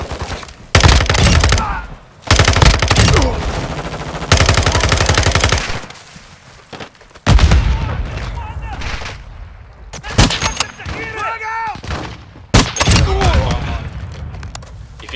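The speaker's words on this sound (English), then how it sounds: "Taking effective fire!" Heavy automatic gunfire in the video game Call of Duty DMZ, loud repeated bursts with booming impacts, then lighter sporadic shots, with players talking and radio-style voices mixed in.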